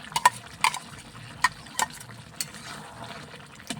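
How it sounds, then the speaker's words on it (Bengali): Chicken and egg curry stirred in a pot, with several sharp clicks of a spoon against the metal over a soft, wet simmering bed, close and moderately quiet. "একটু নাড়াচাড়া করি"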